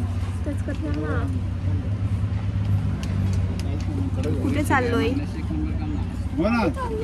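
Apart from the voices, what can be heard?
auto rickshaw ride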